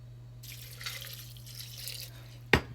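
Water is poured onto soaked rice for Kerala-style vellayappam batter: a soft, steady splashing hiss lasting under two seconds over a low electrical hum, then a sharp click, with no talking.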